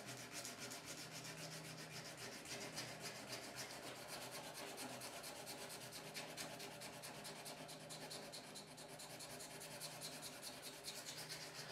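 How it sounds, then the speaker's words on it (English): Hand sanding of a bass guitar neck with 220 grit sandpaper, shaping the neck-to-body transition, a faint steady rasping rub repeating in quick even strokes with no talk. "wrapped with some 220 grit sandpaper and then sand that transition and get it really smooth"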